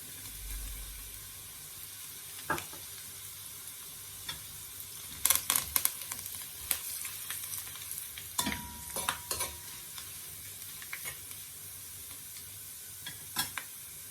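Pimentos hit a hot pan for curry shrimp and give a faint sizzle. A few sharp clinks and stirring scrapes sound up close over the quiet frying.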